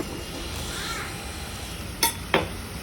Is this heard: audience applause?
no